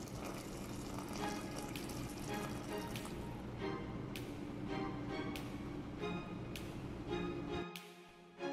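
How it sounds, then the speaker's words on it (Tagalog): Water pours steadily from a tap into a pot of chicken for sinigang, a soft continuous splashing and trickling heard close and faint, stopping abruptly near the end. "Then, lagyan ko na siya ng tubig."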